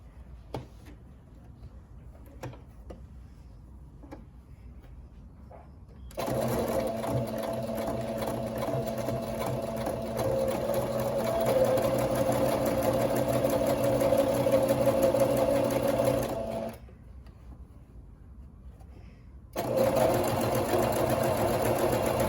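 Brother PE800 machine stitching a quarter-inch edge on a diaper cover: after a few quiet seconds, a steady, close mechanical whir of sewing runs for about ten seconds, stops briefly, then starts again.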